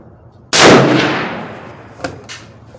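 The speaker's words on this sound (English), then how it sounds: "we just gonna take 2 shots at 25 yards" A lever-action rifle fires at a target 25 yards away over open sights: one sharp, loud report that rings out and slowly decays, followed by faint metallic clicks.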